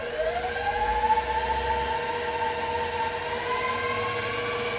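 A stand mixer kneading wet Neapolitan pizza dough, giving off a steady, loud motor whir with a rising whine that holds evenly throughout.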